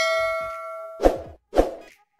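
A notification bell sound effect: a sustained ringing tone fades, then two crisp dings strike in quick succession, each ringing briefly before dying away.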